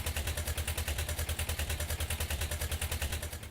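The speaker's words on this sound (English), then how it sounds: "sounds lovely, a real old-fashioned tractor sound" A chugging old-fashioned tractor engine in the video game Farming Simulator 17 idles with a steady, rapid thumping rhythm and rattly clatter, close and constant throughout.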